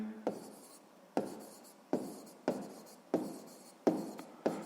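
Pen writing on paper in a quiet room, close and soft, in a series of about seven distinct strokes spaced roughly evenly, each starting with a light scratch that fades.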